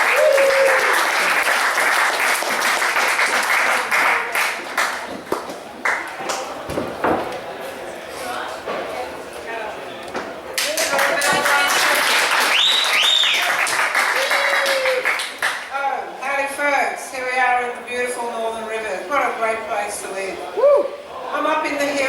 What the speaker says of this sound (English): extra big round of applause